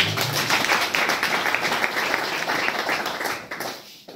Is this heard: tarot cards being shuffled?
no